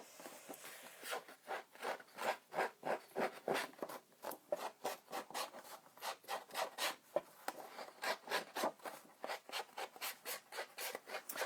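Paper torn by hand and frayed along its edges for scrapbooking, a long run of quick rhythmic rasping, rubbing strokes, close and fairly clear, with no talk over it.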